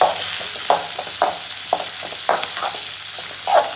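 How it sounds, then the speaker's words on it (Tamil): Onions sauté in a pan, a close sizzle broken by regular scraping stir strokes about every half second, at a fairly loud level. "வெங்காயம் வதங்கிடுச்சு."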